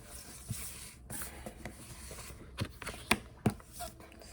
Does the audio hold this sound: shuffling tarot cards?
yes